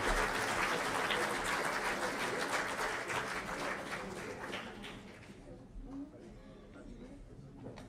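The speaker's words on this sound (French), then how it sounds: "Applaudissez-les." A crowd at an evening awards ceremony for sports champions breaks into sustained applause, a dense wash of many hands clapping that gradually thins and softens, with voices mingling beneath it as it dies away.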